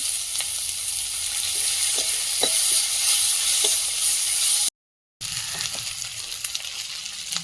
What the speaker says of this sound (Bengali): লবণ আর হলুদ দিয়ে মশলাটা ভেজে নেব।